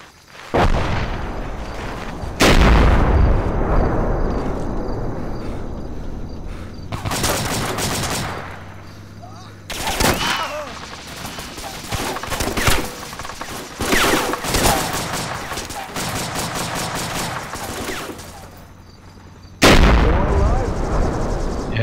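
Rapid bursts of video game gunfire from a Vietnam War setting, with loud automatic fire and heavy booming shots repeating across the scene, and players' voices talking under the shooting.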